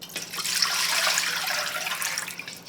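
Water pours into a pot of kimchi and pork ribs, a steady splashing gush that runs close by for the full few seconds.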